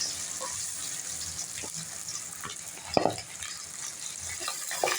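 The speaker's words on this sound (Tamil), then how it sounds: "வெங்காயம் நல்லா வதங்கணும்." Onions frying in a pan for a mutton and drumstick curry give a steady soft sizzle, with a few scraping stirs and clinks near the middle and end and no speech.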